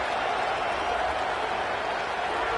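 Home crowd noise from a college football video game, a dense, steady roar of cheering that stays level and unbroken throughout, with no distinct voices standing out.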